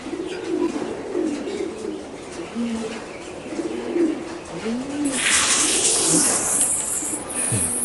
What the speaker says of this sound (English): this bird doesn't like being handled